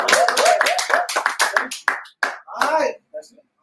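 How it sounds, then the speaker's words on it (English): A few sharp hand claps mixed in with close, continuous talking during a casual interview, with the claps brief and irregular beneath the voices. "I want to clap."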